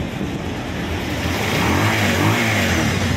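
Motorcycle engine running at idle after mechanic work, a steady low droning hum that rises slightly midway, close and continuous with no talk.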